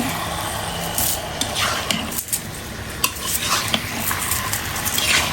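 Meat and spices are stirred in a cooking pot with repeated scraping and clattering strokes over a continuous sizzle, loud and close, with no talking.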